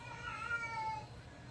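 A cat meows nearby, a drawn-out, wavering call that fills the short moment clearly and stands alone without talk.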